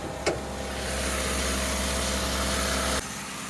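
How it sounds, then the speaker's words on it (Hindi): A Hyundai Venue 1.5 CRDi diesel engine holds a steady drone at 2000 RPM during DPF regeneration with the bonnet open, a constant low hum that cuts off abruptly near the end. "बाहर आप साउंड देखोगे तो बहुत ज़्यादा साउंड कर रही है, क्योंकि इंजन 2000 RPM पे है।"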